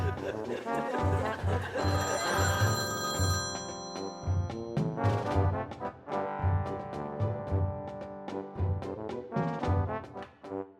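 A telephone bell rings repeatedly in bursts, loud and close, in a comic magic-show skit, with a steady low rhythmic pulse underneath and no clear talk between rings.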